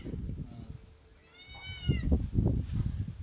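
A single drawn-out cat meow rises briefly, followed by muffled voices and shuffling noise nearby.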